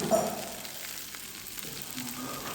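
Chopped long beans and garlic fry together in hot oil in a home kitchen, giving a soft, steady sizzle with faint stirring. It sounds near but fairly quiet and continuous, with no talking.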